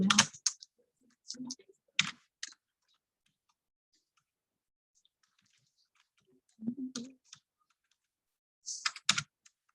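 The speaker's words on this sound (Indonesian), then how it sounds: "Lalu pada bagian author kita ketikkan nama pengarangnya" Bursts of keystrokes on a computer keyboard as an author's name is typed in, coming in short clusters separated by quiet pauses, close and fairly crisp.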